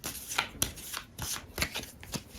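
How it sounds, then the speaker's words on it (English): Lost Ruins of Arnak cards shuffled on a table, a run of quick crisp riffling bursts with short pauses between, close and fairly quiet. "The only thing we have to do is shuffle our cards and then draw 5 for the next round."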